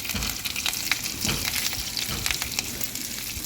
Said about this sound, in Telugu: రంగు మారే వరకు దోరగా వేయించుకోవాలండి